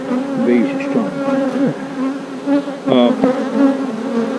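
Honey bees buzz loudly and steadily during an inspection of a backyard hive, a dense drone with pitches that wobble and swoop as single bees pass close by, heard alone without speech.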